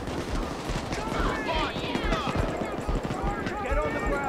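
Gunfire from the video game PayDay 2, bursts of shots and action sounds running steadily under frantic player voices talking throughout.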